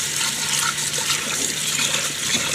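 A cup rinsed under a running kitchen tap, with a loud, steady stream of water splashing continuously at close range and no talking.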